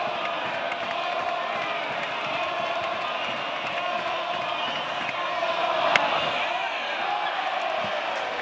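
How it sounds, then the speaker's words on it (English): A crowd at a Goss Stadium college baseball game between Oregon State and USC chants and cheers as a dense, continuous roar, with a sharp crack partway through and commentators talking over it. "that's the last he's heard that chant from the Goss Stadium crowd"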